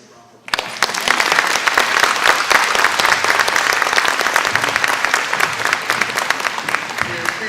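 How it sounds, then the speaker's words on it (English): A panel audience claps for the speakers at a Medicaid expansion forum, with loud, dense, steady applause that erupts suddenly and sustains throughout. "Let's give them a round of applause."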